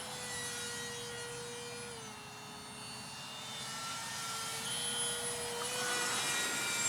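A 1/13 scale IM-99/CIM-10 Bomarc missile R/C propjet flying a loop, heard as a steady, fairly distant turbine-like whine whose pitch dips and then climbs back as the model comes around, with no talk over it.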